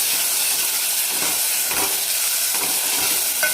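Tomatoes tossed into a hot pan sizzle and hiss steadily while sautéing, a loud, close, continuous frying sound with faint stirring scrapes and no voices.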